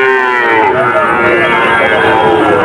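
Calves and cattle low loudly at a busy Bangladeshi cattle market, a long sustained moo close to the listener with overlapping bovine calls and crowd noise behind it.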